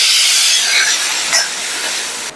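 Water poured into a hot pan of sautéing mixture for dahi tikkari sets off a loud, steady sizzling hiss that runs alone for about two seconds and then cuts off abruptly.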